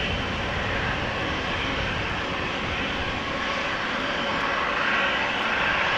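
A KLM Embraer 190 airliner at Amsterdam Schiphol Airport produces a steady, loud engine roar that holds evenly throughout with no pauses.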